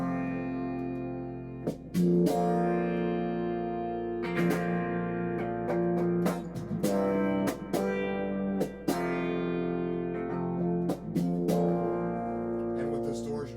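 An electric guitar runs through a Fractal FX8 filter swept by a foot pedal, giving a vintage 70s–80s synth-like tone. Sustained, sweeping chords and notes ring out with swelling, shifting timbre between sharp attacks.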